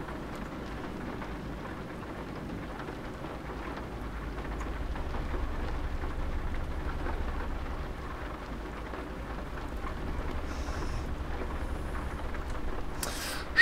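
Steady in-game rain with low rumbling thunder in Euro Truck Simulator 2 pours as a continuous, even wash of noise throughout, with no voices.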